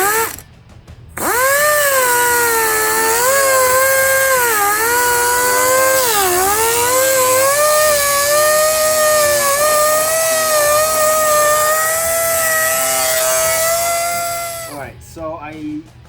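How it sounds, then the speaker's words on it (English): A die grinder with a 2-inch wheel smooths a cut edge while fitting a rear wing on a C7 Corvette, a loud, steady high whine that holds for about thirteen seconds, dipping in pitch as the tool loads, then spins down. "I like to use a die grinder, 2-inch wheel."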